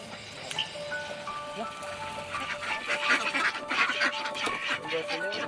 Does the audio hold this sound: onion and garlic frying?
no